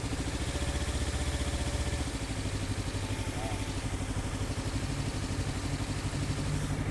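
A motorcycle engine idles with a steady, low, throbbing rumble that holds at an even level throughout, with muffled voices faintly present in the background.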